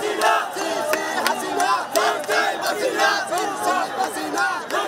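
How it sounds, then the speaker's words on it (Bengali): A dense crowd roars and cheers during a street protest in Dhaka, with many overlapping voices, whoops and shouts forming a continuous loud, close wall of jubilant noise. "ঘর থেকে বের হতে দ্বিধাহীন মানুষের উল্লাসে ফেটে পড়ে ঢাকা"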